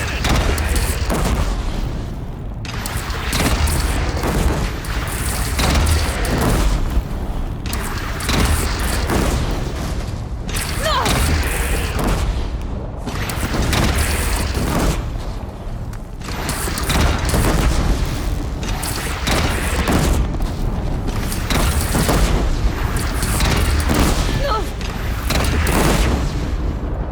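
Heavy cannon fire in the video game Horizon Zero Dawn, a series of deep booming blasts roughly every couple of seconds, each followed by a rumbling tail, loud and continuous through the whole stretch.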